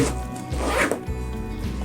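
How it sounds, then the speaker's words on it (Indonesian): Zipper on the bag of an SG906 Max drone being pulled open, a close, loud raspy zip running for nearly two seconds with a brief pause midway. "dan juga resleting utama ini"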